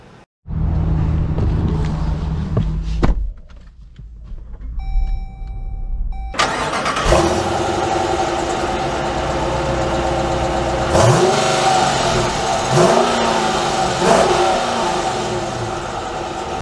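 A 2022 Jeep Grand Cherokee Overland with a 5.7L Hemi V8 cranks and starts, settles briefly, then fires into a loud, close idle with several sharp revs rising and falling near the end.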